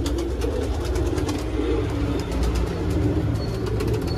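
Fancy pigeons coo continuously at close range, a low throaty rolling murmur layered over a steady background rumble.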